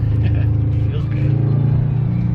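A Subaru WRX fitted with new coilovers pulling away, its low engine drone building gently in pitch from inside the car, with a voice briefly overlapping.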